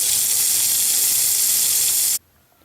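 Warm water runs steadily from a tap to rinse embroidery stabilizer off fabric, a broad, even hiss that stops abruptly near the end, leaving near silence.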